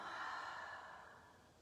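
A single long exhale during a yoga class, a soft, breathy rush of air that starts fairly full and slowly fades over about a second and a half, close and alone with no talking.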